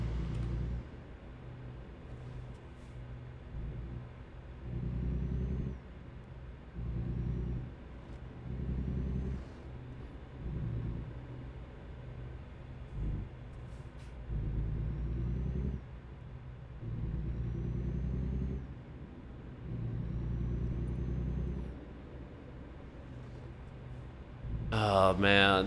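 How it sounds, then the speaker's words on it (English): Road traffic on a one-lane road, heard as a steady low rumble of passing vehicles and engines that swells and fades in repeated waves, with a brief sharp sound at the very end. "I love traffic on one-lane roads."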